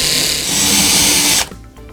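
Power drill spinning a 2.5mm bit through a hole for a drawer clip: a loud, steady high whine that cuts off sharply near the end, leaving quiet room noise.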